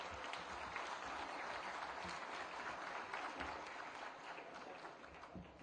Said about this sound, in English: that doesn't just deserve an applaud